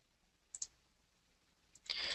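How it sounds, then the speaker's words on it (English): Computer keyboard key presses while working in Solid Edge CAD software: two faint, quick clicks in a quiet room, followed by a slightly louder click burst at the end. "So if we hit S on the keyboard"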